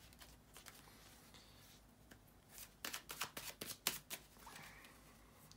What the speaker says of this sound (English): to shuffle the cards